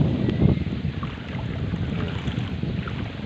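A boat out on shallow water during a company outing, heard as a steady low rumble of water and hull noise mixed with wind buffeting the microphone, with no talking.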